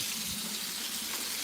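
Tap water runs steadily into a red cup, a continuous soft splashing rush heard alone and close for a brief moment.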